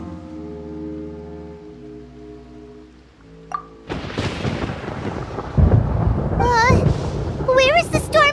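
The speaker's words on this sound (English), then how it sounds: "Paimon hears thunder!" Thunder in the video game Genshin Impact, a sudden crack followed by a long, heavy rumble that builds and rolls on, with voices and music underneath.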